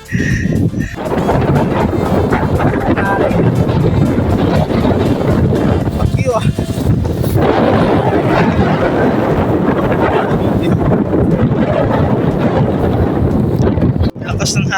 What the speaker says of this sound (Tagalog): Lakas ng hangin dito.